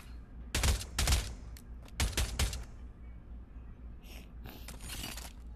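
Burst-fire weapon in the VR shooter Pavlov, several tight clusters of rapid gunshots, sharp and close, separated by short pauses, with fainter clicks toward the end.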